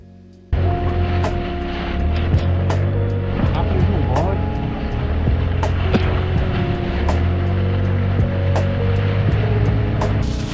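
A Recon Ruckus mini bike engine drones steadily at close range while riding an off-road trail, its loud, constant tone broken by light clatters and bumps from the rough ground.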